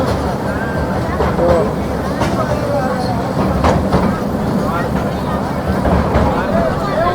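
A train runs along the rails with a steady rolling rumble and faint wheel clatter as it gathers speed, while a murmur of passenger voices carries on underneath throughout.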